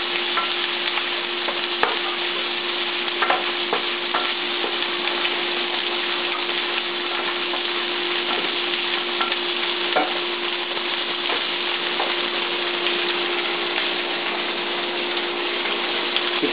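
Mutton frying in a pan for sukka, a loud continuous close sizzle with occasional sharp clinks and scrapes of stirring, steady throughout with no talk.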